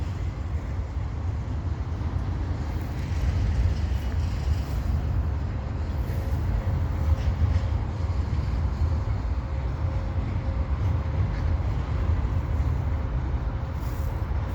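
A long CP eastbound mixed freight with stack cars rolling past in winter at Dorval, a steady low rumble of wheels and wagons holding even and close, with a faint tone riding through the middle.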